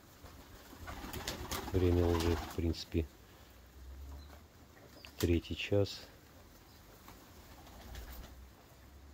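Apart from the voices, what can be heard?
pigeons cooing and flapping wings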